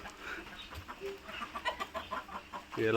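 A free-ranging rooster on a poultry farm in Raozan, Chattogram clucks in a few short, close bursts, with a louder, fuller call at the end and quiet farmyard background between.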